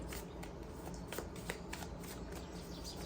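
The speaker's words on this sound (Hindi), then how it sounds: "let me take one more card from this deck" A deck of cards is shuffled and drawn from in a quiet, close series of soft riffling and flicking sounds.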